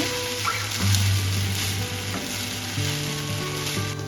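Vegetable fried rice is stirred and tossed in a hot pan, a continuous close sizzle with scraping spatula strokes, steady and fairly loud, with faint tonal background music beneath.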